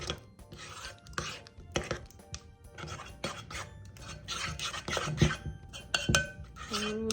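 A spoon scrapes and clinks against a bowl as thick melted chocolate is stirred, in irregular strokes with small knocks, close by and fairly quiet.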